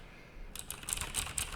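Rapid clicking of computer keys while someone codes a drop-down console for a game engine, starting after a brief quiet moment and continuing as an irregular, close, fairly soft patter of keystrokes.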